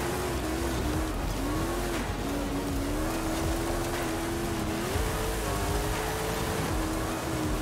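A Toyota 4Runner drives in Forza Horizon 5, its engine holding a steady drone with gentle pitch swells over a broad rushing wash of road and wind noise, loud and continuous.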